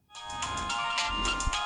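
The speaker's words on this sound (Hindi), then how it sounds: "किसका फोन आ गया?" A phone ringtone starts abruptly and plays a bright, repeating electronic melody, loud and close, with no voices over it.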